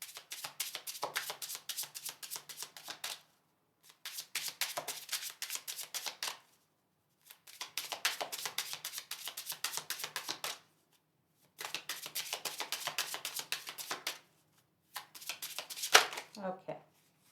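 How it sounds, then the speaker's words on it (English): A deck of oracle cards is shuffled in quick riffling bursts for a card reading. There are five separate rounds with brief pauses between them, heard close and fairly quiet, and near the end there is a faint handling sound. "I'm going to pull a card for you from the archangels"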